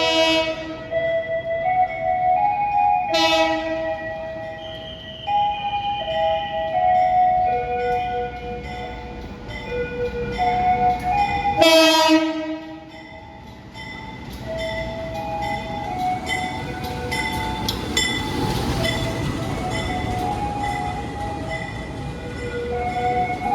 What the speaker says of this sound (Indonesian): Ini keretanya mau masuk di jalur 6